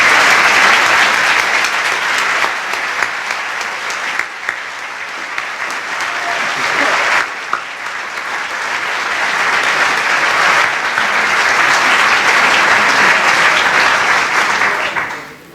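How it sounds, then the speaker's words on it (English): Sustained applause from the audience at a school baccalaureate ceremony at Madeira, dense and loud for about fifteen seconds, briefly dipping and then swelling again before fading at the end. "you can applaud again"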